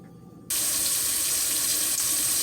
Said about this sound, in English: Now I'm gonna wash my sink out